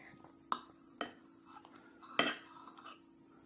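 A knife slicing small pieces of Tomme aux Fleurs cheese on a plate, giving a few faint, sparse clicks and taps of metal against the dish in a quiet room.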